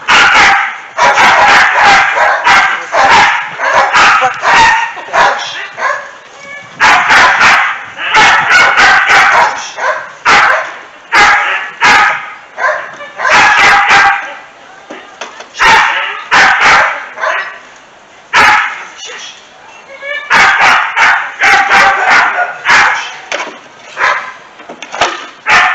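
A dog barks repeatedly in loud, close bursts of rapid barks separated by short pauses during a dog training session.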